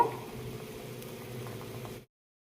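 Potatoes for french fries boil in salted water on a stove, a steady bubbling hiss that runs evenly for about two seconds and then cuts to silence.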